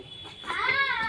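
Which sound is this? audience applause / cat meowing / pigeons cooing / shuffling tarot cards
cat meowing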